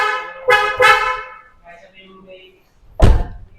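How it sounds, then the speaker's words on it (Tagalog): An MXR car horn fitted to a 2018 Hyundai Starex gives two loud, close honks in quick succession, then a short gap and a heavy thunk. "titestingin ko na itong busina na MXR"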